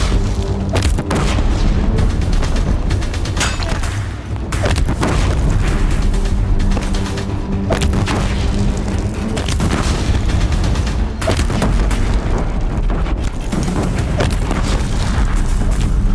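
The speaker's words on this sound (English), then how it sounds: "If the Deathbringers keep firing, this bridge will go." Deathbringer war machines in Horizon Zero Dawn pound a bridge with explosive fire, a continuous barrage of heavy booms and blasts layered over a dense rumbling battle din, loud and close throughout with no voices.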